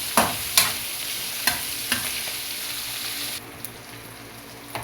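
Sautéed bitter gourd and eggplant stirred in a hot pan, a steady frying sizzle with several sharp spatula clacks against the metal, close and moderately loud, the hiss dropping partway through, no speech.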